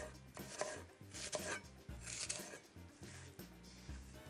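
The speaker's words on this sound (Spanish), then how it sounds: "vamos a hacer trozos toscos con la cebolla" Onion is chopped into rough chunks on a board in a home kitchen, with about a dozen quick, close knife strikes in an uneven rhythm.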